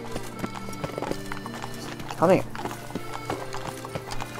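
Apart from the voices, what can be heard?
horse hooves and whinny from video game Witcher 3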